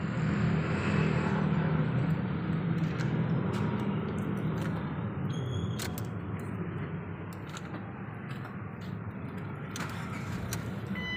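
A Ford Fiesta engine runs steadily after its starter relay is replaced, a close, continuous low motor hum that eases slightly in loudness, with a few faint metallic clinks over it.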